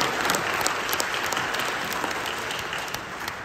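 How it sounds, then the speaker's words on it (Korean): An audience at a robotics newspaper's tenth-anniversary ceremony claps steadily, a close, even patter of many hands continuing without pause for the whole stretch. "박수 한번 주세요"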